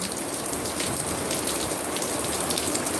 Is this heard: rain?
yes